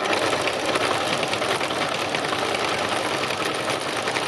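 A sewing machine running steadily for free machine embroidery, a fast, even mechanical whir and chatter with no pauses and no talking.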